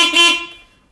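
A short electronic mobility scooter horn beep, bright and fairly loud, then trailing off quickly into quiet.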